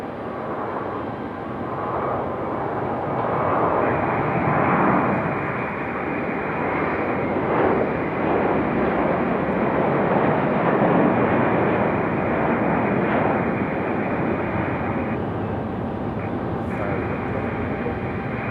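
Jet airliner departures roll out at Raleigh-Durham International Airport, a loud, steady broadband roar building and holding without a break, with a person talking over the engine noise.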